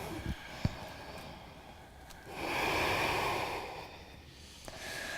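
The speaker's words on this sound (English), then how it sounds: "Nice steady breathing." A slow, steady yogic breath during a sun salutation flow in a yoga class. It builds into a soft, airy exhale in the middle of the clip, heard close and quiet against low room hiss, with no talking.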